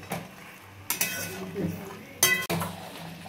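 Mutton curry with potatoes is stirred in a cooking pot with a metal utensil, giving several sharp clanks and scrapes against the pot under a soft background sizzle.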